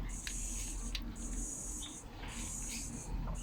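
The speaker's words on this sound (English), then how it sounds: "So just scrape around the gasket" Old gasket material gets scraped from a Ryobi RLT26CDSN carburetor, repeated short hissing scrapes coming in bursts close up and fairly quiet, with a voice faintly audible in the background.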